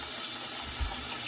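Water runs from a tap in a steady hiss to wet a head before shaving, alone and close, with no voices.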